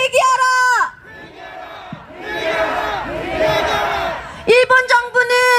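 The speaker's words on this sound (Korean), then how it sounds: "구호와 함성을 외치며 마무리하겠습니다" A street protest crowd on a March 1st independence day march in Seoul chants slogans in unison, loud and close, swelling into a roar of shouts and cheers between bursts of a leader's amplified call.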